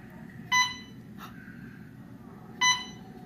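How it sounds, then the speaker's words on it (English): A hospital alarm gives short electronic beeps, two bright pulses about two seconds apart with a fainter chirp between, over a quiet room hum. "Oh, alarm's going off."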